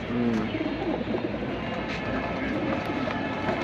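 Soft pigeon coos and bird sounds in a noisy setting, with a steady rumbling background and people talking nearby.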